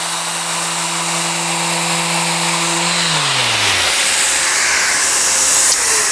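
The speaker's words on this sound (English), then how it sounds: "I've got my first face of my slab all sanded with 80 grit Abernet" A power sander whines loudly against a live-edge wood slab with 80 grit abrasive, its motor tone dropping and winding down after about three seconds, leaving a harsh hissing rush that swells toward the end; no talking.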